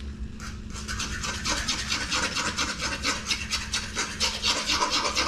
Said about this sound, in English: So let's get this whisked up.